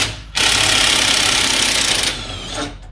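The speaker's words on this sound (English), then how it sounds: "sorry about the noise. I know I had to give it some with the gun and everything" Impact gun loosening suspension nuts on a 2018 Skoda Superb, a loud, continuous, harsh mechanical rattle lasting about two seconds before winding down, with a shorter burst near the end.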